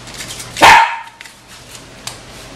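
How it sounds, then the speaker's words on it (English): A dog lets out one loud, sharp bark close by, followed by quiet room noise and a few faint small sounds. "Dumb dog."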